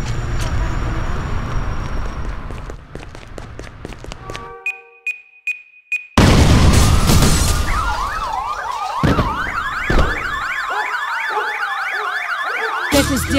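Police sirens wailing in the Barcelona-set driving game Wheelman, loud and overlapping after a burst of gunfire-like bangs and a sharp beeping, with wavering tones cycling continuously.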